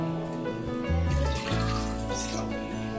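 Water pours steadily into a cooking pot for a 1 kg chicken biryani, about 6.5 glasses for 3.5 glasses of rice, in a continuous close, gushing stream with a brief heavier surge midway.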